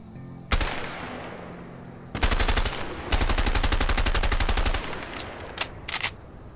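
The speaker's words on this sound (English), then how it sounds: "M16. Burst fire assault rifle." Rapid bursts of M16 assault rifle fire in the video game A Way Out, loud and close, with several separate volleys of fast shots and short pauses between them, the last bursts briefer and sharper.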